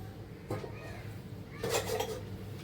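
A metal lid clanks onto a cooking pot of dried bombil masala, with two distinct clattering contacts, a light one and then a louder one.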